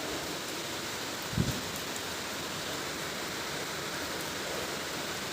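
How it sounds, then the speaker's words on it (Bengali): Morning rain falling outdoors, a steady, even wash of close rainfall with one brief soft thump partway through, no voices. "সকাল হতে হতে বৃষ্টি শুরু হয়ে গেছে"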